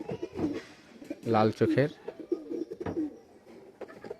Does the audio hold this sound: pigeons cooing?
yes